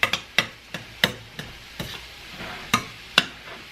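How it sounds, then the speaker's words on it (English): Cauliflower rice and beef being stir-fried in a pan, sharp regular clacks of a utensil against the pan about every half second over a light sizzle. "we're just going to stir fry that just for a few minutes is all it's going to take"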